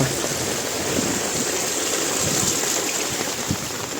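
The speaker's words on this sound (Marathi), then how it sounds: "हे पाणी पाहता किती वाहत आहे" Heavy monsoon rainwater rushing across a rice paddy field, a loud continuous gushing flow like a small river, steady and close throughout with no talking.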